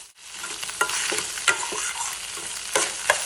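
Eggs frying and being stirred in a pan for vegetable fried rice, a steady sizzle broken by several scraping stirs of a utensil, close and fairly loud, with no talking.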